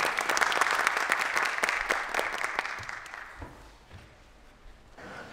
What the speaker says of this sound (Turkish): Güçlü alkışlarla onu sahneye davet ediyorum.